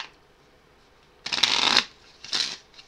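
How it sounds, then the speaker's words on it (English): Onirim board game cards being shuffled by hand, two quick riffling bursts close up in a quiet room. "Let's shuffle them up."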